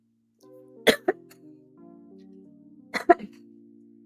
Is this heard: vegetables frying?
no